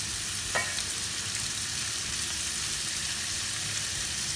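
Beef frying in a pan with homemade chili paste gives a steady, close sizzle with a brief clink of a utensil early on, and no one speaks.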